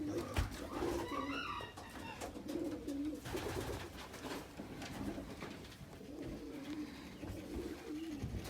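Racing pigeons coo in a breeding loft, soft repeated throaty calls from several birds overlapping at close range, with faint rustling and no talk.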